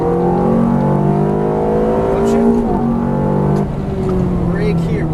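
Ferrari F430 F1 accelerating to full throttle on a track: a loud, close engine note climbing steadily through the revs, with a brief dip partway through and the roar sustained to the end.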